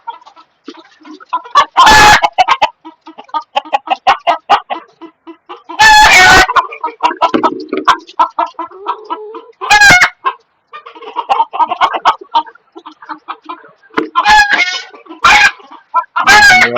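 Kadaknath hens on a rooftop farm cluck and squawk close by, with several loud, abrupt bursts of calling breaking through a steady run of softer clucking. No one speaks.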